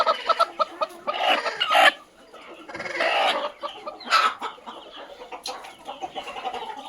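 Native village chickens at a country poultry farm cluck and chatter close by, with short repeated calls rising and falling over a few seconds and no voices.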